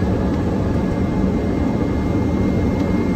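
Hawker 800XP business jet touching down on runway 27 right during a night medevac landing in Philadelphia, a loud steady roar of jet engine noise filling the whole stretch without pause.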